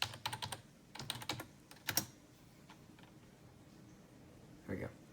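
A password is typed on a computer keyboard during Linux troubleshooting, with quick clusters of close, crisp key clicks in short bursts against quiet room noise, followed by a brief pause and a single softer sound.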